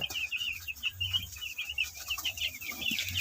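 Two-day-old broiler chicks cheeping steadily, a dense run of high, rapid peeps from a brooder flock, close by with faint low rumbling underneath.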